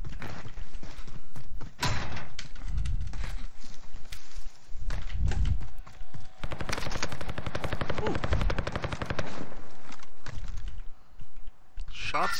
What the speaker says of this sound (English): Shots over here-ish.